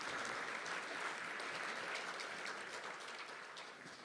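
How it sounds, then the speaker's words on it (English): An audience applauds at an academic lecture ceremony, a dense steady patter of many hands heard from a distance, fairly faint and tapering slightly toward the end, with no voices over it. "Please give her a round of applause."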